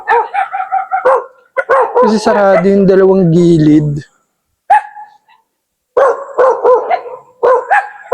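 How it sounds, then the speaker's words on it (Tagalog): Several dogs bark and yip in rapid bursts, close and loud, with pauses between volleys, while a person speaks over part of it. "Tapos may mga aso."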